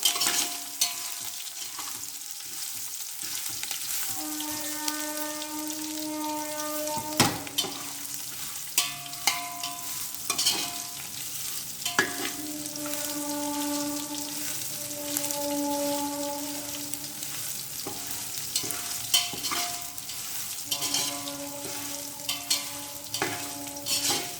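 Garlic frying in a pan, giving a continuous crackling sizzle with scattered light spatters and occasional stirring clinks, close and fairly quiet, with faint tonal background hum and no voices.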